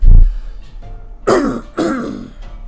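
Two rough throat-clearing coughs from congestion, close and fairly loud, after a brief low thump, with quiet pauses between them.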